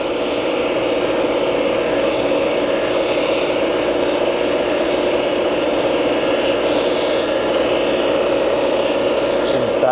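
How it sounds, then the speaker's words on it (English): A bench grinder runs steadily throughout, sharpening a TIG welding tungsten electrode with a loud, continuous whine and no pauses or voices. "this is the basic term, the basic way to sharpen the tungsten"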